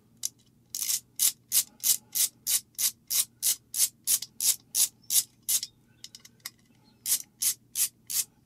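A ratchet wrench clicks in quick, even bursts as it loosens the handguard barrel nut on an AR-style premium upper, about twenty sharp ratcheting strokes up close with a short pause near the end.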